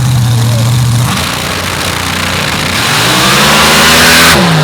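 A drag racing car at Gore Springs launches off the line, its engine droning loud and close and then climbing in pitch as it accelerates away, with a brief shift near the end.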